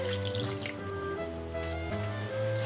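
A cup of water is poured into a pan of brown sugar and golden syrup, a steady splashing pour that runs for a few seconds under a constant background hum.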